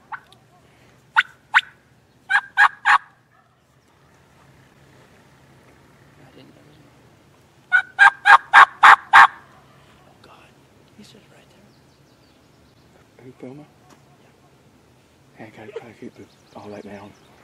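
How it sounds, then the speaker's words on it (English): A wild Merriam turkey gobbler gobbles during a turkey hunt. Several loud, rattling gobble bursts come at intervals, one long rolling series in the middle, and soft whispered talk and faint calls come in the quiet gaps. "we finally struck a gobbler"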